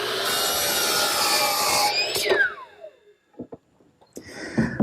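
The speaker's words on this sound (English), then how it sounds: "Now I'll just trim it to length at the miter box." A hand saw cuts wood in a miter box with rapid, loud rasping strokes for about two seconds, followed by a descending whine and a few scattered knocks and taps.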